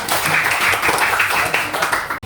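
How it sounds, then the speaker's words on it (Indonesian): A class applauding a student group, a steady burst of clapping from many hands that fills the room and cuts off abruptly at the end. "berikan aplaus kepada kelompok 1"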